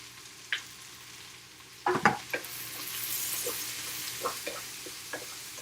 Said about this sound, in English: So I'm actually gonna cook my white onions. And my mushrooms.